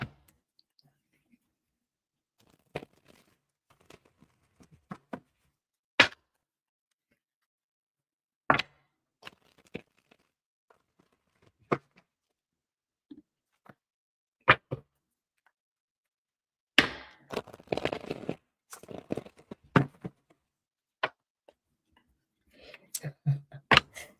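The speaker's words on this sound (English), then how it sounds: "let me get a good shuffle, make sure" Tarot cards shuffled by hand during a live reading, giving sparse dry clicks and flicks with a denser riffle burst near the end, heard close and quiet, with occasional talk.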